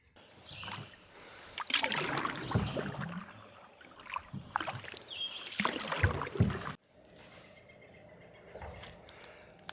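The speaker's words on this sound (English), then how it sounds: "time to get paddling" A canoe is paddled on a river, with soft repeated paddle strokes, drips and water swishing close by, fairly quiet, with the sound dropping to a calmer background wash near the end and no talking.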